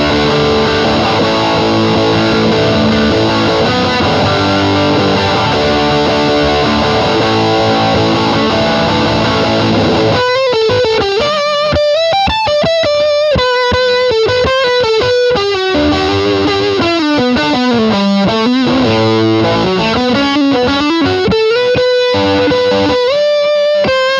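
Electric guitar through a Big Muff fuzz pedal, first a thick, saturated wall of chorded fuzz, then a loud sustained lead line bending and sliding between notes, dense and continuous throughout.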